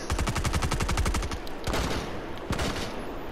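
Rapid automatic gunfire in a shooter video game, a loud, tight burst of fast shots followed by a few heavier single blasts, with no talking over it.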